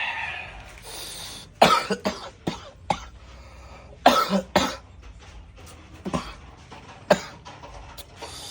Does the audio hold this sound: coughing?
yes